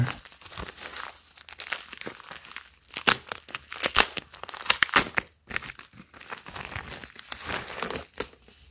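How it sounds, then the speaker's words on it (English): Packaging for a DJI Osmo Pocket handheld gimbal camera is crinkled and unwrapped up close, with loud, irregular crackling and tearing bursts that keep on throughout and no speech. "wow so much packaging which is good"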